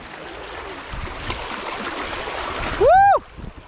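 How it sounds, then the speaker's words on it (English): White water rushes around a paddled boat on the River Thames, a steady close churning and splashing of fast current, with a voice briefly whooping near the end. "Got a bit of white water."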